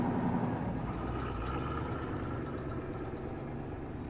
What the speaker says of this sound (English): Just the sound of an engine outside.